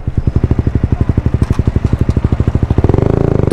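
A KTM 125 Duke motorcycle fitted with an Akrapovic exhaust runs close by, a rapid, even single-cylinder putter of distinct pulses that quickens and grows louder toward the end as the engine revs up.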